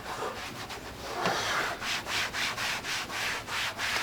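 A cloth rubs Black Magic trim restorer onto plastic trim in quick back-and-forth strokes, a close, soft scrubbing with a regular rhythm and no voices.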